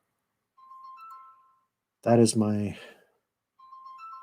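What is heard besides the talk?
phone ringing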